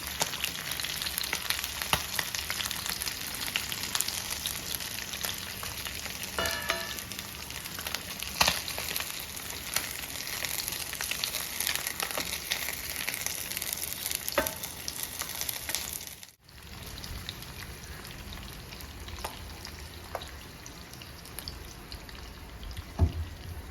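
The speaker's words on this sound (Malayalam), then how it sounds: "കരിമീനെയൊക്കെ ഇവിടെ നന്നായി ഫ്രൈ ചെയ്തെടുത്തിട്ടുണ്ട്" Kerala-style karimeen (pearl spot fish) frying in oil in a wide pan, giving a steady, loud, close sizzle that runs throughout with scattered pops and one brief dip near the end, with no voices.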